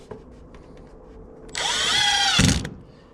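A power drill drives a screw while soffit is being hung on a new building: after a few faint taps, the motor whines loudly for about a second, rising in pitch, then ends with a short grinding thud as the screw seats.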